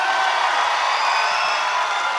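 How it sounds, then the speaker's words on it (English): A crowd at a tricking battle cheers and whoops in a steady, dense roar throughout, sounding broad and somewhat distant without pauses. "Come on, cheer him on, let's go!"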